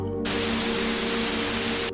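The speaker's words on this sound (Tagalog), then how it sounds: "sabay tunog ng high-pitch na static" High-pitched static hisses from a bank of monitors, starting abruptly after a brief silence and holding as a loud, steady broadband wash with a faint tonal hum beneath.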